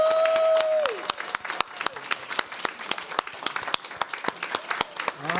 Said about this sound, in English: let's have another big round of applause for Autumn Wallace and Michelle T. Woo!